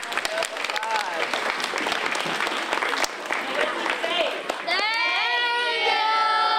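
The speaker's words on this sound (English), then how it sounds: "can we give all of our mentors a big round of applause?" A roomful of people applauds mentors at a community workshop, a dense steady wash of clapping mixed with voices, then children's excited cheering rises over it near the end.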